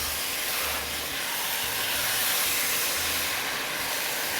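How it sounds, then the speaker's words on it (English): Steady, loud hiss of peas sizzling in a hot pot, continuous throughout with no talking. "Listen to that sizzle"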